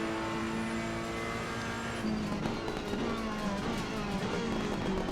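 A race car lapping in a racing sim game, with a steady, loud engine drone and harmonic whine that shifts pitch slightly as it brakes and accelerates, running continuously.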